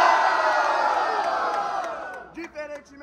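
A large crowd at a rap battle in Itaquera cheers and shouts loudly, the roar slowly fading, then a few scattered whoops and calls near the end.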